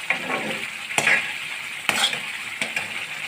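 Semolina is roasted in a kadhai for halwa, dry grains rustling and scraping as a spoon stirs, with a few sharp clinks of the spoon against the pan at irregular intervals, close and clear with no talk.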